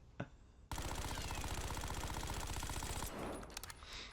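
Rapid sustained burst from the SAUG submachine gun in a Call of Duty game, a dense mechanical rattle of shots lasting over two seconds after a single opening shot, ending with a few scattered clicks.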